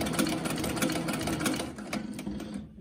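A SEWPRO 266 heavy duty zig-zag sewing machine for sails, with a digital motor, running slowly: a steady close mechanical hum with rhythmic needle clatter that eases off at the end.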